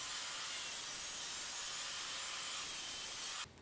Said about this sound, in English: we clamped the top to my miter gauge and then cut the top to its final length